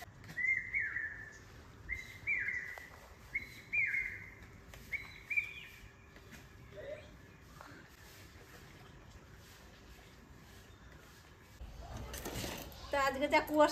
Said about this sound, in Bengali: আজকের থেকেই কোকিল পাখির ডাক শুনতে পারছি আমরা।